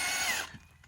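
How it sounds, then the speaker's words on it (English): A drill-driven auger churns through soil for strawberry planting, giving a gritty, whirring mechanical grind that is fairly faint and cuts off after about half a second, leaving quiet scraping. "We've got an auger and a drill, and Eric's just going through and loosening up the soil."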